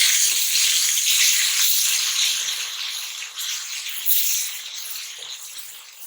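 Garlic ginger paste dropped into hot oil with whole spices, giving a loud, bright, steady sizzle that starts strong and slowly fades, with faint stirring clicks and no talking.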